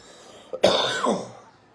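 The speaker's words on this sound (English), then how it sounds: "Oh, I got a cough for the first time." A single throaty cough, close and fairly loud, with a brief rasping tail; no talking around it.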